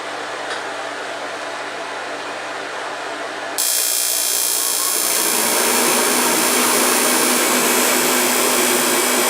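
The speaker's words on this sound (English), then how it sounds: "it's not the fault of the heater." A portable garage heater running off a nearly empty tank roars into a loud, steady blowing rush partway through, jumping up from a quieter hum to a strong, constant whoosh close by.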